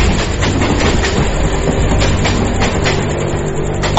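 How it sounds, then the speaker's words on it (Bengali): A train roars past at close range as a sound effect in a Bengali suspense audio drama, a loud steady rumble of rolling wheels with rhythmic clatter filling the whole span, no voices over it. "সামনে দিয়ে রেলগাড়িটাও গর্জন করতে করতে বেরিয়ে গেছে।"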